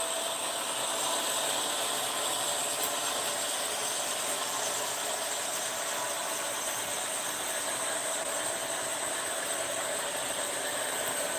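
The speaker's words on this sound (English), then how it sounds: "That way we can get all the trains running and the BN motor in the foreground." Model trains, including a BN locomotive, run steadily nearby, a continuous mechanical whir and faint clicking rattle with a high electric whine, no voices.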